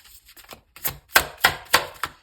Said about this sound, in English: The shuffle sounds very loud.